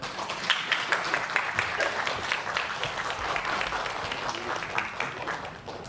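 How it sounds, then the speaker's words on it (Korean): A lecture audience at a mental health day event in Cheongju claps warmly and continuously, a dense, even patter of many hands filling the room without any speech. "그럼 쫑 박사님을 큰 박수로 맞이해 주시길 바랍니다"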